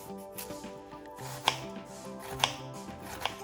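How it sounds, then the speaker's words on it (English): A knife chops an onion on a board, a few sharp irregular cuts standing out close by against a soft background with a steady low hum. "So we kind of cut up the onion"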